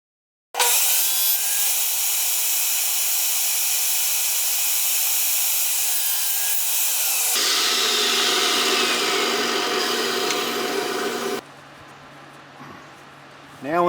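Pen blank pieces of aluminum and curly Texas mesquite are cut on a power saw, a loud steady whine that shifts pitch midway, then drops to a quieter spin-down near the end.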